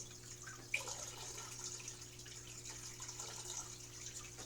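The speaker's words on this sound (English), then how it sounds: "So I'm going to add the water to the tank." Water trickles and splashes softly into a fish tank, a quiet steady pour with a low electrical hum underneath.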